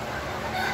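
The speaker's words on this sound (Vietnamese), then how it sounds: "Bây giờ mình sẽ đi sang gà miền Tây." Chickens of a Mekong Delta (western Vietnam) breed on a farm, giving short clucks and rooster-like calls over a steady, dense background hum.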